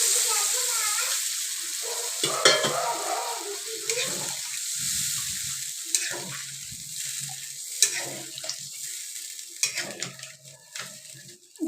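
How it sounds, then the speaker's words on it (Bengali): Water with spices sizzling and coming to a boil in a pan for a spiced chapila fish curry, a steady close hiss and bubbling broken by scattered clinks, with a person talking over it. "জলটা ফুটে গেছে।"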